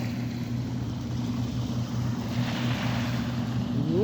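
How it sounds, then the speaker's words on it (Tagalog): Steady rushing surf and wind wash over a constant low motor hum, continuous and fairly loud, with no voices. "Ayan ang wave."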